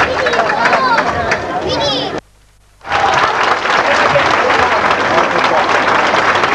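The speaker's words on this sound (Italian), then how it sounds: "E un applauso per bravo fate adesso." Applause for a singer at an emigrant-themed gathering in Cellino San Marco, a loud dense wash of clapping from a crowd with voices mixed in, breaking off briefly in the middle before surging back just as strongly.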